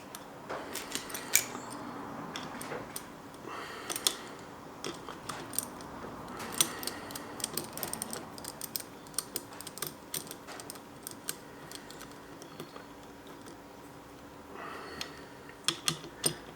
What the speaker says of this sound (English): put the bolt on with the copper washer